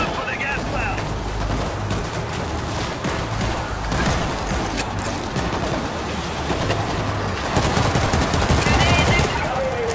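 Continuous gunfire in the World War Z video game, dense rattling automatic bursts over a steady roar of game noise, with a voice talking over it.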